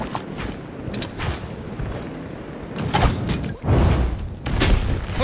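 Bombs going off in the fantasy dungeon game Dungeonborne, a string of heavy booms and crackling blasts mixed with thumps and rattling mechanisms, loud and close and growing stronger in the second half.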